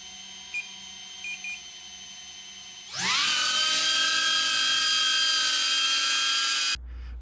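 A DJI Avata drone fitted with replacement propellers spins up after a quiet stretch with faint beeps, then holds a loud, steady high-pitched whine for several seconds before cutting off abruptly.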